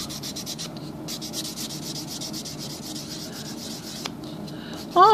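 A corroded metal spoon, probably aluminum, is rubbed and polished by hand in a steady, soft continuous scrubbing that runs alone and close for several seconds, with a brief bump near the end.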